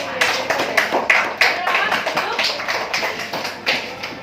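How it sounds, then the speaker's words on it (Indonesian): A classroom full of people applauding a student group, a steady dense patter of hands with a few voices mixed in, fairly close. "Kita beri tepuk tangan untuk kelompok."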